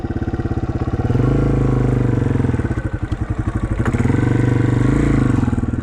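Yamaha TW200 motorcycle being ridden, its single-cylinder engine thumping loud and close with a steady rhythmic pulse, rising and easing as the throttle changes on a rough trail.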